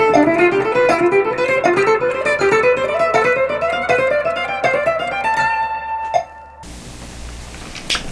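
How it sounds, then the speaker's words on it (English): Guitar picking a fast ascending run of triplet sixteenth notes against a metronome, notes climbing steadily in a dense even stream before stopping abruptly, then a brief hiss, no talk. "Now, with the metronome, it's going to sound like this"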